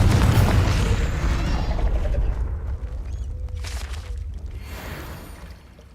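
A Confringo fire blast spell from Hogwarts Legacy lands as a loud, deep boom up front, then rolls into a rumbling roar that slowly fades over several seconds.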